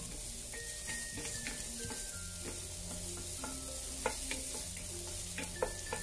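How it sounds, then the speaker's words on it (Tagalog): Garlic sautés in a pan for beef broccoli, a steady, fairly quiet sizzle punctuated by repeated clinks and scrapes of a utensil stirring against the metal. "Gisa na natin ng ating bawang. Lutuin lang natin ng kaunti."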